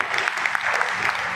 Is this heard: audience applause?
yes